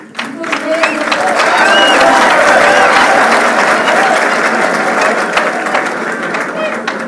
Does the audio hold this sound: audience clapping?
yes